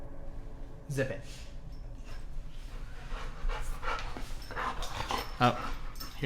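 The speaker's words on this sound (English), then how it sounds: "Oh, here's my dog, everybody." A pet dog pants close by indoors, giving quick rhythmic breaths with a few faint whimpers while a person talks over it.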